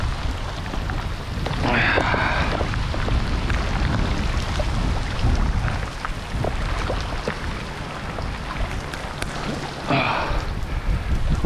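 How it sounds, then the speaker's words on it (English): Heavy rain pours steadily during a Florida thunderstorm while wade fishing near a dock, a loud dense hiss throughout with a couple of brief brighter bursts. "Here comes the rain."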